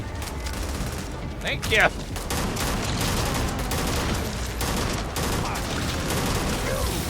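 Rapid bursts of gunfire from the sci-fi video game Starfield fill a dense, loud mix, with a sharper crack or two near the start and a voice talking over the din.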